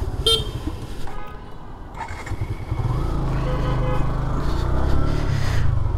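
Short horn toots from a new Suzuki motorcycle sound near the start over the close rumble of its engine, which then builds into a steady, louder drone.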